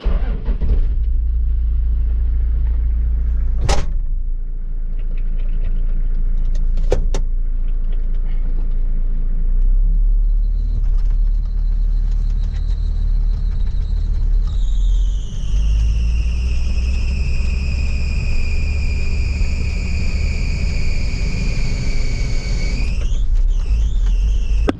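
A ute carrying a self feed out bin on the back drives across a Western Australian sheep farm with a loud, steady engine rumble. Partway through, a rising mechanical whine joins the engine noise.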